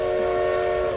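Flying Scotsman steam locomotive in the racing game Forza Horizon 4, giving a steady, sustained whistle blast that holds one unbroken tone for about a second with no talking.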